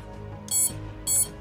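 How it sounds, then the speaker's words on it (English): Two short, loud electronic beeps from an FPV drone's beeper, each lasting about a fifth of a second and spaced roughly half a second apart, over a low background hum. "it's beeping."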